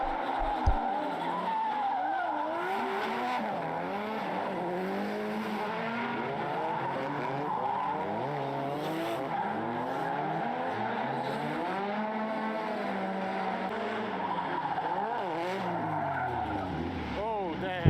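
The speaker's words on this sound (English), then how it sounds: "meanwhile the car is sliding the whole time" A car drifts and slides continuously, tires skidding and squealing in long wavering tones over a steady engine drone; voices talk over the sliding throughout.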